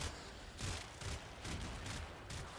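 Heavy gunner enemies in Warframe fire in rapid, rhythmic bursts of gunfire, several clustered volleys repeating about every half second, faint and distant-sounding in the game.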